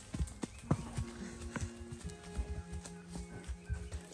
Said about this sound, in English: These horses know what they're doing though.